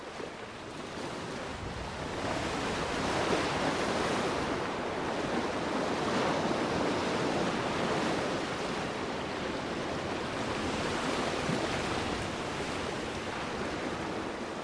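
Ocean waves and wind make a broad, continuous rushing roar, with surf swells rising and falling slowly under a steady gusty hiss, no voices present.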